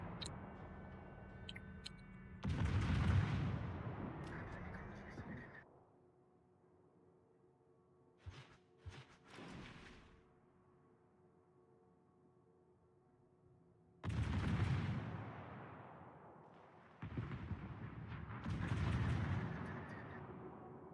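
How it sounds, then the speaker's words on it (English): Warship main guns firing salvos in World of Warships, several heavy booming bursts in separate clusters with quieter gaps between, rumbling and loud over a faint ticking background. "Shoot your guns, Gascon."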